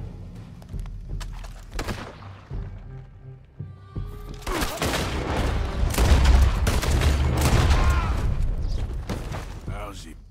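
A volley of gunshots and heavy thuds in Red Dead Redemption 2 erupts midway and builds into a loud, dense burst, after quieter game sounds and brief character speech.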